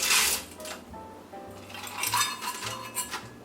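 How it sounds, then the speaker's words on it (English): A cup of frozen corn tipped into a pot holding rice and water, a quick rattling clatter of kernels followed by light clinks and scrapes of cookware, close and moderately loud, with no voices. "next, I'm adding 1 cup of frozen corn"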